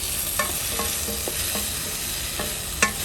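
Celery, leeks, onion, garlic and carrot sauté in a pan for tomato soup, giving a steady close sizzle broken by a few light scraping stirs and clicks.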